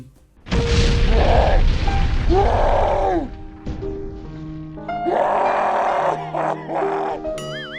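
Loud, booming bomb explosions in a video game, over and over, layered with roaring effects and tonal game sounds, dense and continuous.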